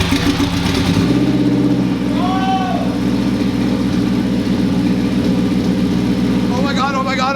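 Turbocharged 8th-generation Honda Civic engine catches on its first start and runs steadily, a loud continuous idle rumble with some revving, while excited voices shout over it.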